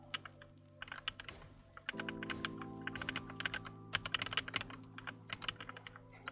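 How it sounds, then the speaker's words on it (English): Rapid clacking keystrokes on a new computer keyboard during a TETR.IO game, quick irregular taps in bursts over soft background music, near and fairly quiet. "It is distracting the keyboard, because it's still making like sounds that I'm not used to"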